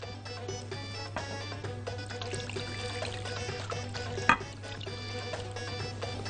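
Water poured from a container into a baking tray holding marinated chicken thighs, a steady trickling pour running throughout with a faint background hum and a small clink near the end.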